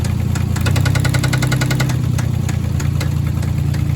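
A Toyota 4Runner 3.0L engine idles loudly nearby with a steady mechanical rumble and a rhythmic ticking knock from one cylinder running through it, with no voices.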